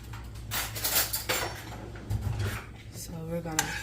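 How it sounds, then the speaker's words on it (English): A spoon scrapes and clinks against a cooking pot as food is stirred, a few irregular metallic knocks and scrapes close by, with a person talking. "Let me stir it a little bit."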